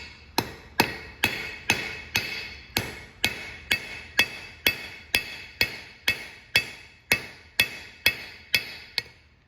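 A hammer strikes hot metal on an anvil to thin a tapered piece for a drive-in board hook, ringing blows landing in a steady, evenly spaced rhythm, about sixteen loud close strikes with no talk.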